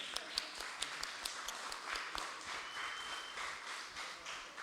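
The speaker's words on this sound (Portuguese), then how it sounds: "isso aí precisa de palmas mesmo" A church congregation at a weekly meeting claps together, fairly faint and diffuse, with a few louder individual claps early on, no talk over it.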